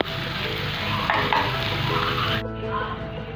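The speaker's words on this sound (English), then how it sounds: "Mix this up properly, stir it for 2-3 minutes and then put off the gas." Chayote (chow chow) vegetables with coconut are stirred in a hot pan on a gas stove, a loud, close sizzle with scraping stirs that drops off sharply near the end.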